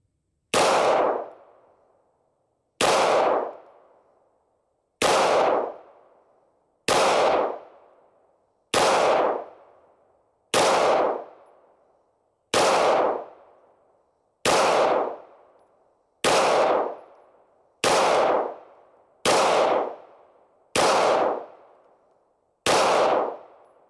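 A Bear Creek Arsenal Grizzly fires twelve evenly spaced loud shots at a metal target seven yards away, each sharp report ringing off steel and decaying before the next, with no talk.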